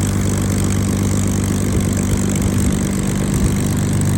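Rolls-Royce Merlin V12 engine of a Spitfire idling while warming up, a loud, steady, close rumbling drone with a deep throbbing beat throughout.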